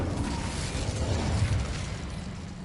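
An Incendio fire spell is cast in Hogwarts Legacy with a loud, rumbling, explosive whoosh of flame that roars steadily for a few seconds before easing slightly.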